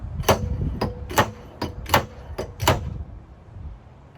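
Stud welder on Mini Cooper body metal during dent pulling: about seven sharp, close snapping clicks at irregular intervals over a low hum, fading to quiet at the end.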